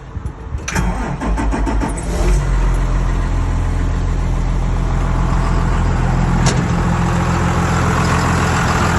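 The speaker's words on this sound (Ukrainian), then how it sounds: "Двигун працює без зауважень." A 2020 John Deere 6140B farm tractor engine cranks and catches, then settles into a loud, steady diesel idle that holds close and unbroken with no talk.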